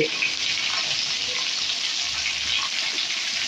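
Ginger, green chilli, tomato, salt and turmeric for pea ghugni fry in a hot pan, giving a loud, steady, close sizzle that holds without a break and has no talk over it.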